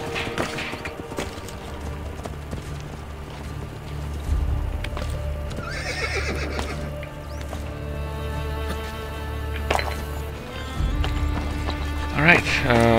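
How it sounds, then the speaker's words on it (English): A horse in Assassin's Creed Brotherhood neighs loudly and trots, with clip-clopping hooves, a couple of whinnies rising above the steady footfalls and someone talking over parts of it. "Okay, you know what, horse? Go away."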